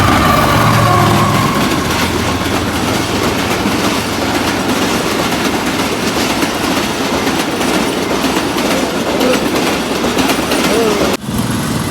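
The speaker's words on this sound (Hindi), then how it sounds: "दोस्तों चेक कर सकते हो सामने आ चुकी ट्रेन।" Train arriving at a station, a steady loud rumble of rolling wagons with clickety-clack and faint wheel squeal throughout, ending in a brief thump.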